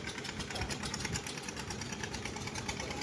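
A fishing boat engine runs at a beach in Arnala, producing a continuous rumbling, chugging drone at steady volume throughout, with no speech.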